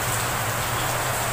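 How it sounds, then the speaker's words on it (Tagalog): Heavy rain falls steadily as a downpour grows stronger, a dense, continuous wash of sound with no talking. "Tulad po ngayon, lumalakas na naman po ang ulan."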